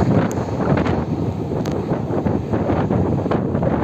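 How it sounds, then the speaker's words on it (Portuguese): Strong wind roars without a break across a flying FIMI X8 Mini drone, loud and close with gusty rustling, and nobody speaks. "Olha o vento que esse drone tá tomando"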